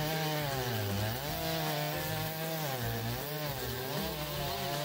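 A high-horsepower chainsaw cuts through wood, its loud motor whining steadily and dipping and rising in pitch as the chain bites into the log.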